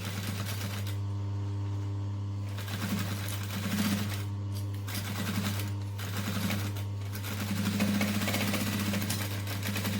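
A sewing machine stitches around the edge of a fabric doll, its needle chattering in short runs with brief pauses for backstitching, all over a steady motor hum.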